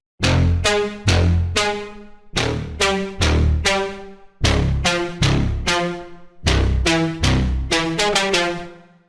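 A big synth lead preset named Lead Billboard for slap house plays punchy, bright stabbed notes in a bouncing rhythm, each hit decaying quickly, loud and upfront with no voices.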